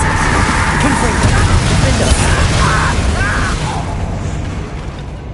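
A Confringo spell explosion goes off in a Harry Potter video game, a loud, dense burst of rumbling noise that decays over several seconds, with voices present.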